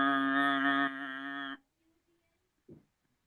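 A human voice imitates a ferry horn with one loud, steady, buzzy honk held for about a second and a half, followed by quiet and a brief soft vocal sound.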